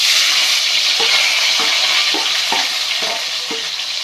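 Mustard seeds and cumin crackle and hiss in hot oil, a dense loud sizzle with a handful of soft pops spaced through it, close up with no talking.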